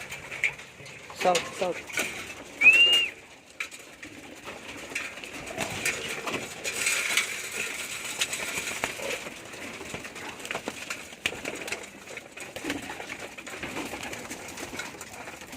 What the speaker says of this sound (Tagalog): Yan, mga kalapatids, pan-south naman to.